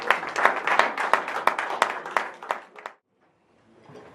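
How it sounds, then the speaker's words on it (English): A small group claps steadily for about three seconds at a business gala dinner, the applause fading out abruptly into near silence. "Round of applause, please."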